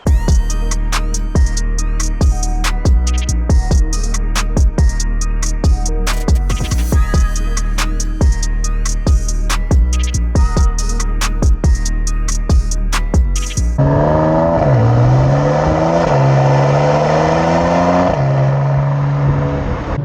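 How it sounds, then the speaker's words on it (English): Music with a steady beat plays, then cuts to a Mercedes-AMG C43 Cabriolet exhaust burbling and revving up and down up close, loud and throaty. "let's get inside and listen to that exhaust purr."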